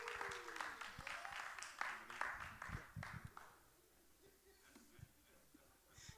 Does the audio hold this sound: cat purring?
no